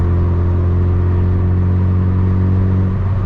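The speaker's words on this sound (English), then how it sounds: "If you've got a car that slightly burbles when you can just tap the exhaust, well, tap the pedal just like that" Mazda MX-5 MK2 idling with a steady low exhaust burble and engine hum, loud and close, a slight change near the end as the throttle is tapped.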